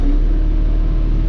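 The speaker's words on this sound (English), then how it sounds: "We'll rev it up." An LS tractor engine runs loud and close at raised revs, a dense, steady mechanical roar with a throbbing low rumble, heard alone for a short moment.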